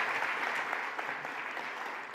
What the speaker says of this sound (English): A round of applause for our participants.